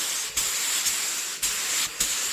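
A spray gun sprays metal flake paint onto a skateboard, a bright hissing blast of air and paint repeated in several long bursts separated by brief pauses.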